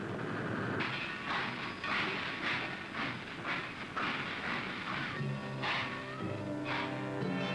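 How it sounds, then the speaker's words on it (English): A freight train hauling raw materials such as iron ore, coal and limestone rolls along the rails with rhythmic clickety-clack wheel beats over a steady rumbling hiss, moderately distant and continuous. "The men going to work can see the freight trains bringing in the raw materials"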